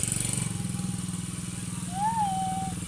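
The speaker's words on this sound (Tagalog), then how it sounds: "ATV." An ATV engine runs steadily nearby on a dirt riding trail in Alfonso, Cavite, a low droning putter that holds throughout and rises briefly near the end, with a faint tonal whine over it.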